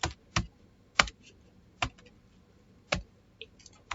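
Individual keystrokes on a computer keyboard while C++ code is entered, sparse and crisp clicks with pauses between them, close and fairly quiet, with no talking.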